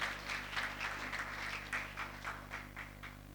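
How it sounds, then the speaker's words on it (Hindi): Audience clapping for a student placed third at a college debate competition, a steady wash of many hands at moderate loudness with rhythmic swells, lasting the whole few seconds without voices. "जोरदार तालियों से उत्साहवर्धन करें।"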